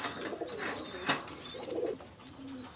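Pigeons of a master pair, high-quality breeding birds in a loft, coo in soft low repeated phrases, with a few fainter calls and bright chirps from other birds in the background.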